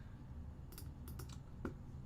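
Several quick keystrokes on a computer keyboard, tapped in two short clusters while someone enters a number, faint and close against a steady low background hum.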